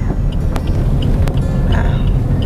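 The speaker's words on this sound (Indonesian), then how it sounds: "Kita parkir di sini" A car engine hums low and steady at close range as the vehicle pulls in to park, with a couple of brief clicks over the continuous rumble.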